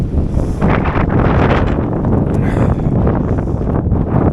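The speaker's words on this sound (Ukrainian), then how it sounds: "Якраз випали на такий сильний вітер, хмара." Strong wind roars continuously on a cloudy Carpathian mountain ridge in snow, buffeting loudly and steadily with gusty surges and rumbling against the microphone throughout.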